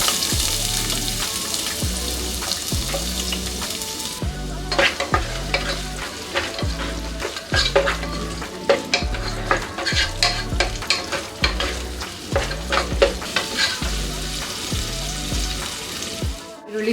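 Chopped medium onion fries in oil and butter for a vegetable kurma, with a bright sizzle broken by rhythmic spatula scrapes and stirring strokes against the pan, close and steady throughout.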